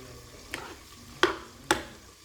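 Pork and bamboo shoot are stirred in a hot frying pan, Assamese style, with three sharp spoon scrapes and clatters over a soft background sizzle, close and without speech.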